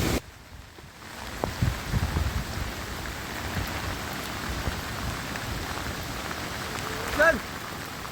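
Steady heavy monsoon rain pours down on the Ratangad trek in Maharashtra, a dense continuous patter on surfaces, with a few faint voices and a brief knock beneath it.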